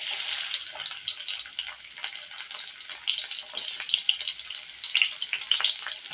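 Sliced onions fry in hot oil for a fish curry, giving a continuous bright, crackling sizzle with small pops, close and unbroken throughout.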